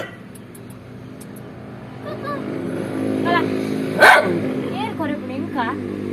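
A dog barks several times in a home setting, sharp yelps rising in the middle with one loud bark, while people talk over and between the barks.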